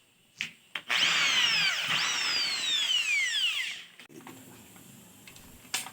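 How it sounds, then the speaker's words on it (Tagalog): A power drill whines loudly while boring into a metal license plate, its pitch sliding as the bit bites, preceded and followed by a few clicks and clanks. "binutasan niya na yung plate. Palit mo na na barena yung ginamit niya."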